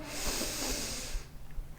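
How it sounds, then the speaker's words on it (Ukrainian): Deep, close inhale through the nose during a kundalini yoga breathing exercise, a breathy rushing hiss lasting just over a second before tapering into quiet. "Робимо глибокий вдих носом."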